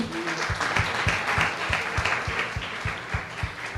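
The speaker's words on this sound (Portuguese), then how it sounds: "Dê uma salva de palmas ao Senhor." A church congregation applauds with a steady rhythmic clapping beat, dense and sustained throughout, like an audience clapping along together.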